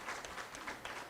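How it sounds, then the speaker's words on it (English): Conference audience clapping, a short, fairly faint patter of hand claps in a hall with no voices over it. "Can we have a louder round of applause?"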